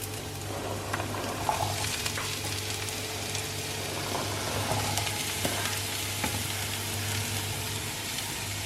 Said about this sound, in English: The onions are getting that nice golden color.